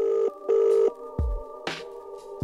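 A telephone rings for an incoming caller, two electronic ring bursts followed by a tonal buzzing pattern and a couple of short clicks, close and clear with no talking.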